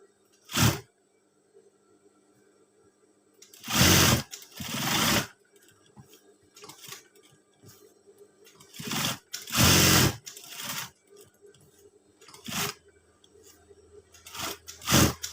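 A sewing machine stitches a scout uniform in several short bursts of rapid mechanical whirring, each lasting about a second, separated by quiet pauses with faint handling noises.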